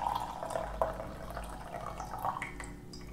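Green tea poured from a porcelain gaiwan, a thin trickling stream with a few soft drips, close and fairly quiet over a steady low hum of the room.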